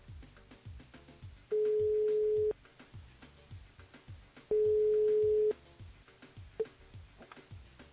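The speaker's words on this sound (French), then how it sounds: "On rappelle Anise sur le standard" Two long, steady telephone tones of about a second each, separated by silence, with a short blip near the end, sound over a quiet line while a radio station calls a listener back.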